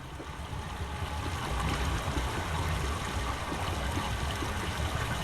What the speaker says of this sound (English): Okay, so I've opened the water and it's now going along everywhere